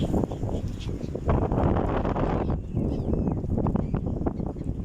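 Cold wind gusts in a quiet, peaceful outdoor area in Baku, Azerbaijan, buffeting the microphone in a continuous loud rumble that swells and eases over several seconds.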